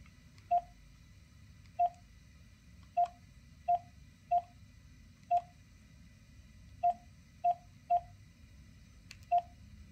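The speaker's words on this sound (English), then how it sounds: "I've had a bit of technical difficulties with dialing the number" Keypad tones from a Samsung Galaxy S22 Ultra smartphone being used to dial a number: ten short, clean beeps in an uneven rhythm, close and distinct over a faint low hum, with no one speaking.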